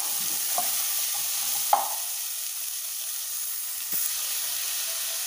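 Chopped onion sizzles and fries in a pan with browned garlic, a steady close hiss with a few brief stirring clinks and scrapes.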